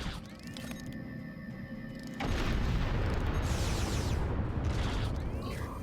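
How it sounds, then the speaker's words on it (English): Continuous loud rumbling explosion blasts and crackling debris in the video game Star Trek Online, with a sharp jump in intensity midway as a heavy explosion booms through a dense, noisy mix. "Let's also hope that these explosions aren't going to carry too far either"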